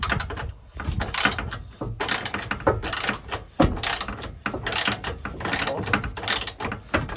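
Close, busy ratchet clicking as bolts are undone on a diesel fuel tank, rapid pawl ticks in repeated bursts with brief pauses and metallic knocks throughout.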